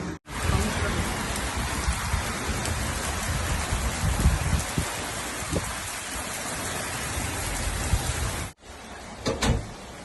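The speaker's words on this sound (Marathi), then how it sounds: "भयंकर पाऊस चालू आहे." Heavy rain pours steadily outside a house in America in winter, a loud dense hiss of drops hitting surfaces that cuts off abruptly near the end, leaving a quieter patter with a few knocks.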